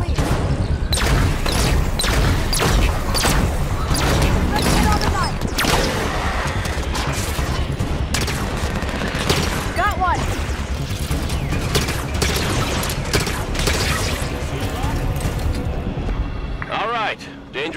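Heavy gunfire against Knights in a Halo 5 battle, dense volleys of shots and booming impacts mixed with explosions, loud and continuous throughout, with voices speaking amid the combat.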